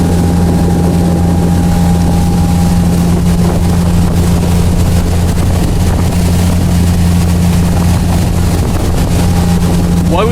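A motorboat engine drones steadily and loudly throughout while the boat is under way, with a strong low hum and wind buffeting the microphone; faint voices occasionally mix in.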